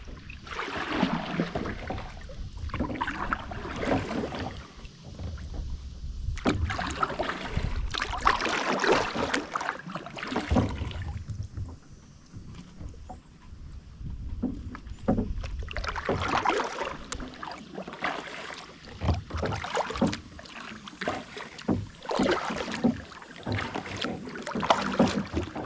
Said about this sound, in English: the first thing I noticed is how easy it is to paddle out here today